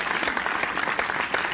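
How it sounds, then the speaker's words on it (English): Steady applause fills a scene from an animated movie, with a crowd clapping continuously and fairly loudly for a short burst. "Give her a round of applause."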